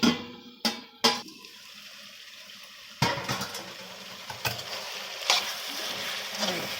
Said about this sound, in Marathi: थोडंसं आता वाफवून घेऊया